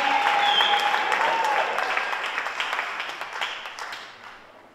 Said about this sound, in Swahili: wangempigia Bwana makofi